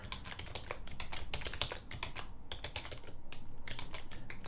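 Close, rapid typing on a computer keyboard, a dense stream of crisp key clicks with a brief pause partway through, with no voices.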